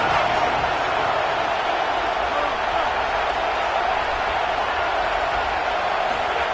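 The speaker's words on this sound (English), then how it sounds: "This crowd ready to make its presence known." A football stadium crowd at an Oklahoma vs Notre Dame game keeps up a steady, loud roar, with an announcer talking over it.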